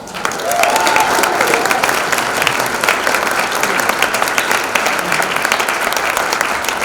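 Sustained audience applause fills a university lecture hall as a CEO guest speaker is welcomed, dense steady clapping throughout with a faint whistle-like tone early on and some crowd murmur.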